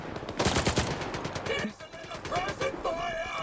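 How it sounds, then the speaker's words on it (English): Enemy gunfire from the Monolithians in STALKER 2 rattles in rapid bursts, loud and close, with a brief lull midway before more shots crack amid game noise. "My friend just shot me."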